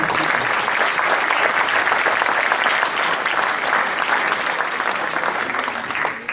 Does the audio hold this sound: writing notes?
no